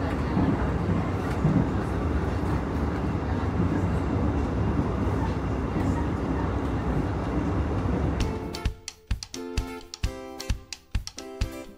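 The Baturraden Express, an executive-class passenger train, rolls along with a loud, steady rumble heard from onboard. Near the end it gives way to a rhythmic clatter of wheels over rail joints.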